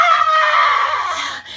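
A storyteller's voice imitates screaming frogs, a loud, strained, wavering shriek held steadily across the whole moment and tapering near the end, no ordinary speech.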